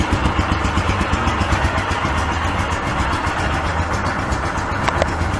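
A Royal Enfield Himalayan motorcycle idles with its stock exhaust pipe, giving a steady, loud, close thumping throb whose rapid regular pulses continue throughout with no talking.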